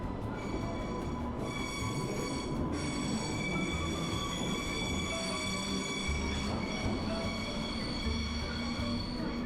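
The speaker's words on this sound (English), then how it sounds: "the train continues a short distance down the pier to the pierhead" A train runs along Ryde pier on the Isle of Wight toward the pierhead, giving a steady rumbling rail roll with wheel noise and faint squeals, continuous and moderately distant.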